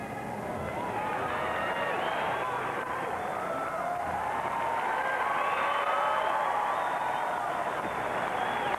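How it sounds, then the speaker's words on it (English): An arena crowd at the 2003 gymnastics world championships in Anaheim cheers and applauds during a rings routine, a continuous roar of voices and clapping with rising shouts. "And listen to the crowd."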